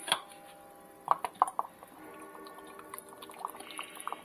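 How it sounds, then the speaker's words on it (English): Balsamic vinegar poured into a saucepan, with a few sharp clinks of cookware near the start, then a steady thin trickle of liquid running on softly to the end. "balsamic vinegar and pour it in a saucepan"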